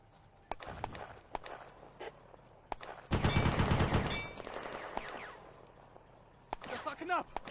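Gunfire crackles in the Firefight video game as friendly fire strikes a Panzer 38 tank on the Eastern Front in June 1941: scattered single shots, then a dense one-second burst of rapid fire, more sporadic shots, and game voices shouting.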